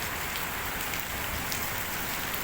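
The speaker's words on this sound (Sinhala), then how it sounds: "ඒත් ඔන්න කටාර වලට හොඳටම වහිනවා." Steady, heavy rain drums on gutters as a continuous close wash of patter with no pauses, alone and without any voices.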